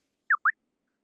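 A pair of very quick tone sweeps from a brain-training auditory exercise, the first falling in pitch and the second rising, tightly spaced and brief, heard in isolation against silence.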